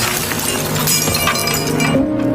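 A window pane shatters after being struck by a kicked football. A loud, dense crash of breaking glass fades into scattered tinkling shards close by, with no voices.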